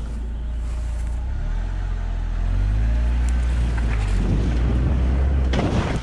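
A Lada Niva drives along an abandoned rural road, its engine a steady low rumble with wind buffeting and bumps from the rough surface, with no one speaking.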